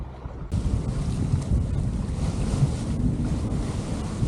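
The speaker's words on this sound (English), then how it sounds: "We've got 17 knots of wind now, upper end of force 4, which is nice. She's actually sailing really well now." Cromarty 36 sailboat sailing close hauled in 17 knots of wind, with steady loud wind buffeting the microphone and waves rushing against the hull throughout, with no talking.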